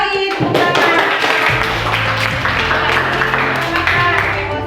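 Applause and clapping from a classroom of students fill the room, a dense, steady wash of hand claps running throughout at close range.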